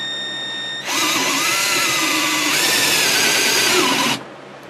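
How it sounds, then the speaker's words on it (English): Power drill boring into a self-sealing gummy screw top during a 2006 Ford van headliner install, a high steady whine that kicks in after a faint hum, runs about three seconds close by, then stops. "so in order to get into it I have to drill it like this."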